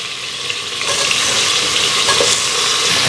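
Tomatoes sautéing in a pan over onions and shallots for a sambar rice dish, a steady close sizzle with soft stirring scrapes that grows slightly louder after the first second, with no voices.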